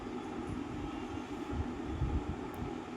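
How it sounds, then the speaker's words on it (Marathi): Steady rumble and rolling hum inside a moving Mumbai suburban local train, a fast service between Bhayandar and Dadar, with continuous wheel-and-track noise and no voices. "हे बघा रस्ता ट्रेनमधून आपण जातो."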